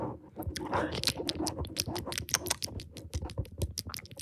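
Close, crisp crunching of chips being chewed in ASMR style, many sharp rapid bites and crackles in an uneven rhythm, with talk mixed in.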